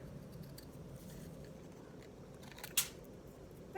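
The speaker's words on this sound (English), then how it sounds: "I'm going to give that a little snip because it looks more like a flag if it has a little triangle cut out of it like that" Scissors give a single crisp snip into a paper flag, cutting a small triangle, close and brief over a low room hum.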